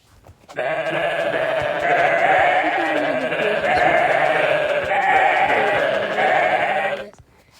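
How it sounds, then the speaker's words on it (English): Sheep in the video game WorldBox bleat together as a flock, a dense overlapping chorus of wavering baa calls that starts abruptly, stays loud and close, then cuts off. "a flock of sheep stumbled by."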